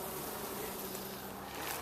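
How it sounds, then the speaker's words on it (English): Steady, dense buzzing of many bees up close during a beehive inspection, a continuous drone with no voices. "See that big bee right there? That is a drone bee right there."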